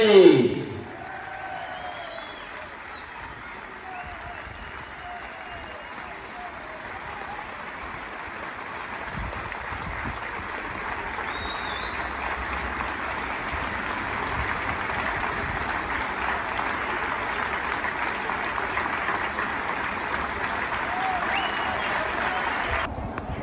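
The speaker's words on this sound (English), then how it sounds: "Can we all be all standing and give a warm round of applause to Paul Heatley?" A stadium crowd gives a standing ovation for footballer Paul Heatley at his testimonial match, a sustained, dense wash of applause that swells slightly and holds steady to the end.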